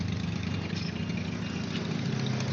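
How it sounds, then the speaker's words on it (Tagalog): A Yamaha Mio i 125 (Mxi 125) scooter engine idles steadily up close, a constant even drone with no speech. "So ayan, open natin yung motor."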